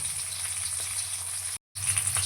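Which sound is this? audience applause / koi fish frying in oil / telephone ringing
koi fish frying in oil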